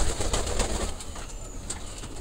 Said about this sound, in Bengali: আর এই রোদটার টাইমে আমরা কবুতর এখন ছাড়বো